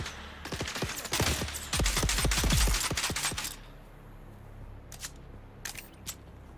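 Heavy-recoil gunfire in Dune Awakening: a dense burst of loud, rapid shots over about three seconds, then a few isolated distant pops against quiet game ambience.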